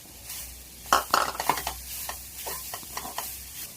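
Beaten rice (aval) sautéed in ghee, with a cluster of sharp stirring scrapes and clinks against the pan over a soft sizzle, then quieter occasional stirs.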